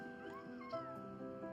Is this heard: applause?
no